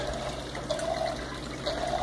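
Water being poured from buckets into a 10-gallon aquarium during a water change, a continuous low splashing and trickling with a couple of gurgling swells, fairly quiet and steady, with no speech.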